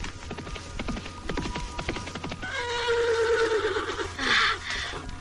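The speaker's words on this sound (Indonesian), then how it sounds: "Itu kuda rombongan Raden Sanjaya." A horse belonging to a travelling party gives a loud, drawn-out whinny that rises and wavers, preceded by a rapid series of sharp clopping hoof knocks close by.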